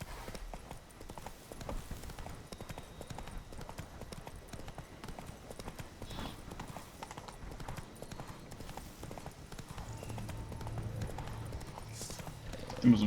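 Roach the horse gallops in The Witcher 3, steady clip-clop hoofbeats drumming continuously at moderate level throughout, with a brief louder burst at the very end.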